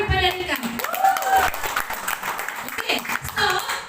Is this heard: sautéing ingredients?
no